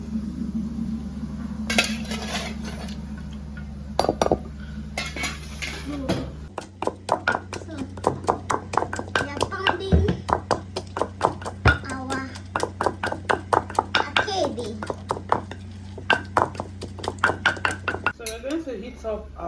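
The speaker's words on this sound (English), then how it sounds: "Now we are going to pound this." Cooked akidi beans for Nigerian abacha salad are pounded in a mortar, with a steady run of hard, knocking thuds in an even rhythm, following some clinking of kitchenware, while a person talks over it.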